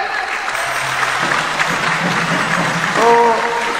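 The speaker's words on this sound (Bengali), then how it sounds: "হাত তালি জুড়ে।" Steady rhythmic hand clapping from a crowd gathered for a kirtan at a Sandhya Arati in Sri Dham Mayapur, continuous and fairly loud, with a faint sung or spoken voice mixed in toward the end.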